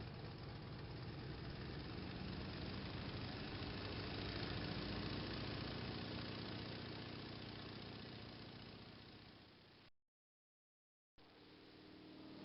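A propeller airplane engine from The Magic School Bus video game drones with a steady, rumbling tone that swells and then fades, cuts out briefly, and resumes near the end.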